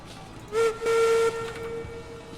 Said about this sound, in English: Got a train a-coming.